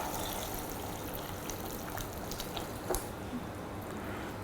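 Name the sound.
water poured into pot of Sri Lankan beef curry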